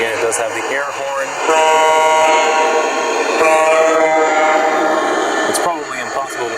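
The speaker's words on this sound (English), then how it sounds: "Again, it does have the air horn." A Lionel Legacy Southern Pacific AC-9 model train's loud air horn sounds in two long blasts, with rumbling mechanical noise and clicks before and after.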